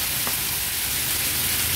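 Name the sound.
sautéing peas and boiled potatoes in a pan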